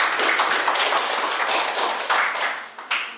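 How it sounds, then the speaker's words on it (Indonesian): A class claps for a classmate in a classroom, with quick, dense, close-by clapping filling the room for a few seconds. "Kasih tepuk tangan untuk teman kalian."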